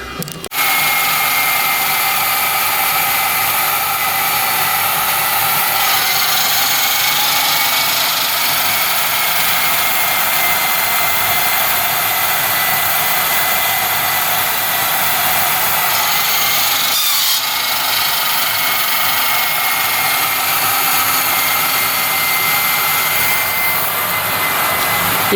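A power tool polishes billet camshafts, giving a steady high whine that runs continuously and loudly throughout, with slight shifts in pitch as the load changes.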